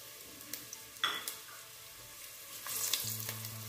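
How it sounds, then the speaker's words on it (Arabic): Onions frying in a little oil in a pan for a Tunisian cauliflower tajine sauce, a soft sizzle with occasional stirring scrapes and light clatter, no voices. "هنا حطيت شوية زيت باش نكمل، نحط توا البصل"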